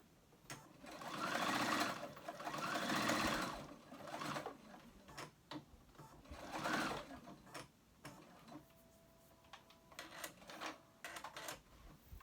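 A sewing machine stitches the back seam of a ruched tee, running in several steady mechanical bursts with short pauses between, close and fairly quiet, with no talk.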